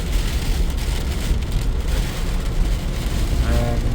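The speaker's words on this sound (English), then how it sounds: "and it's still raining" Steady rain falls near Loch Linnhe outside Fort William, a continuous close hiss of drops pattering on a surface with a faint vehicle hum underneath.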